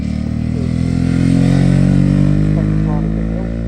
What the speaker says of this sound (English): he's really pushing that bike on that final run of the day for him, and good to see that Suzuki as well